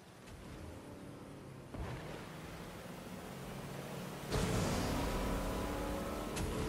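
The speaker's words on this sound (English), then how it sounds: "Sounds like someone's already showing up on boat." Broad rushing noise like a boat motor and water wash in the video game Fortnite, growing louder in steps as the boat draws nearer, with no voices.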